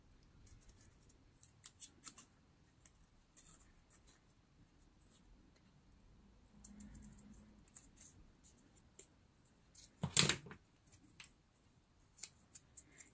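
A knife cuts a paper window for a vintage journal cover, giving faint scattered scrapes and ticks, then a louder, closer cutting scrape near the end, with quiet pauses between.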